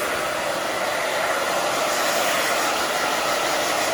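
A handheld hair dryer blows on a short pixie cut, giving a loud, steady, unbroken whoosh of air close to the microphone for the whole stretch.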